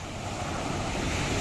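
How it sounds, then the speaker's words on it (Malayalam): Sea waves roar against a rocky, stone-covered shore at a fishing spot, making a dense, continuous surf rumble with some wind buffeting the microphone. "കടലിങ്ങനെ എന്താ പറയുക ആർത്തിരമ്പാണ്."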